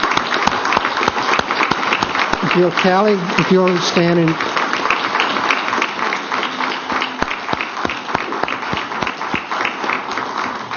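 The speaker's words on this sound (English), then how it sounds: "I think the council would enjoy sharing with me a round of applause for our accounting people" Council audience at a Cherokee Nation tribal council meeting applauds the accounting staff, a steady round of clapping lasting several seconds while someone speaks briefly over it.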